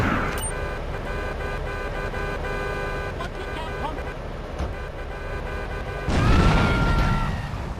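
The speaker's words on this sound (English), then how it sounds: "He wouldn't stop honking." A car horn honks in Grand Theft Auto III amid constant game traffic and engine noise, then a louder burst of rumbling action near the end; someone talks over it.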